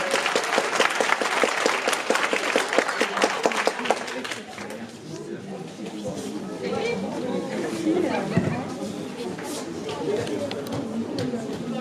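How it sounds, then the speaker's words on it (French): An audience at a local talent show claps for a young singer, dense applause filling the first few seconds before thinning into a murmur of crowd chatter and scattered claps. "On peut l'applaudir s'il vous plaît?"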